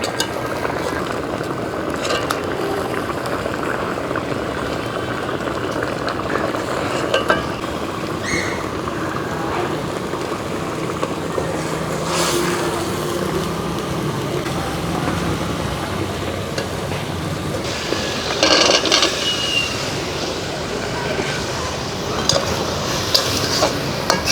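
A large katla fish cooks with jackfruit seeds in a village kitchen pan, frying with a constant sizzle while a spoon stirs and scrapes now and then, all steady and close for over twenty seconds.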